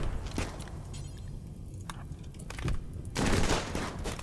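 Gunfire in the RimWorld video game: bursts of rapid crackling shots, with scattered single reports and a dense volley near the end, at moderate loudness and with no talk over it.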